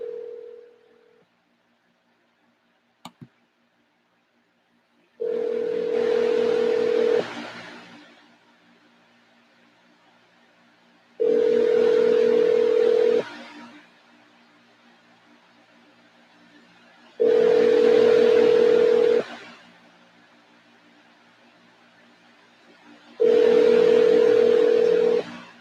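Outgoing telephone call ringing back: four long ring tones, each about two seconds, repeating steadily with gaps of silence between, clear and alone with no talking.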